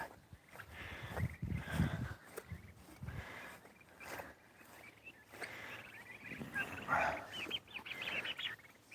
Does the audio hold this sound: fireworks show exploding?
no